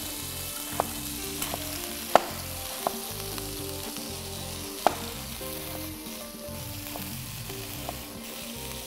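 A fish fillet laid skin side down in a hot grill pan sizzles in a steady, dense hiss, with a few sharp clinks on top.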